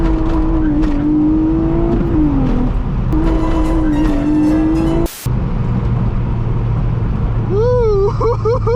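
Honda Accord coupe with a J32 VTEC V6 engine revving from inside the cabin, a loud steady engine drone with rising and falling pitch, a brief sharp burst midway, and a voice briefly heard.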